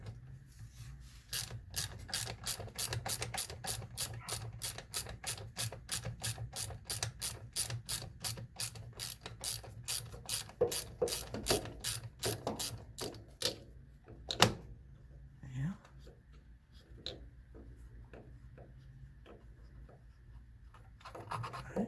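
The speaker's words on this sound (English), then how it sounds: "Let's do a little bit more ratcheting." A ratchet wrench clicks rapidly and evenly while loosening bolts on an HWH RV hydraulic pump motor, about thirty close, crisp clicks over several seconds, then slowing and giving way to scattered clanks and scraping.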